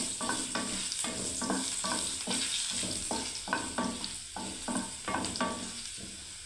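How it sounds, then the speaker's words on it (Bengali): Potatoes fry in hot oil in a wok and are stirred, giving a continuous sizzle broken by rhythmic scraping strokes of the spatula, close and fairly quiet. "আমি একটু আলুটা একটু ভেজে নিচ্ছি বন্ধুরা"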